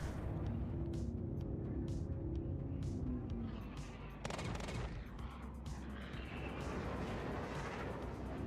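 Gunfire in the space game Star Citizen: a series of sharp shots and bursts, fairly close and loud, with a heavier blast near the middle, over a rumbling ship background and no talk.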